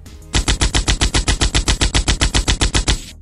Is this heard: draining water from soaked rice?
no